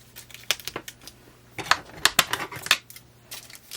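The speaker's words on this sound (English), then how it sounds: "I can cut off the excess here." Excess card stock being trimmed for card making with a Simon Says Stamp kit: a string of sharp, close snips and clicks in two clusters with a brief lull between, alone without talking.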